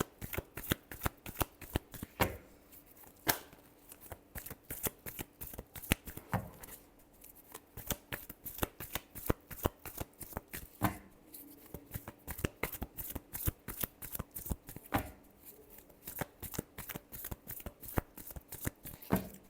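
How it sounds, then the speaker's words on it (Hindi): Tarot cards being shuffled nonstop for about twenty seconds, a dense run of crisp riffling flicks and slaps close to the mic, with no talking. "Last shuffle."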